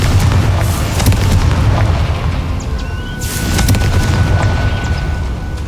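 Loud booming explosion from the Confringo spell in Hogwarts Legacy, deep rumbling blasts with sharp bursts rolling over a dense low roar of game noise, close and heavy throughout.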